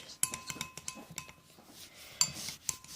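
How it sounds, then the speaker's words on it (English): Spoon scraping and clinking against a bowl while stirring a homemade slime mixture, with irregular close taps and rubbing strokes, quiet and alone. "Now you want to stir it until it's the color you want."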